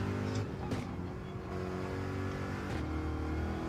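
A race car engine in Gran Turismo 7 drones steadily on hard tires, with brief revving swells and shifts in pitch, fairly quiet and without talk.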